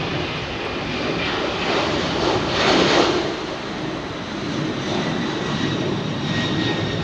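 Boeing 767 jet taking off from a Heathrow runway, a loud, steady broadband engine roar that swells to a peak near the middle and stays strong and sustained throughout, with no voices.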